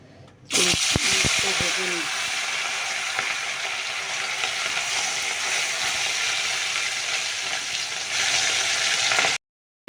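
Fish sizzles loudly in hot oil in a wok, a sharp burst as it hits the pan followed by a steady, close crackling hiss with a few knocks at the start.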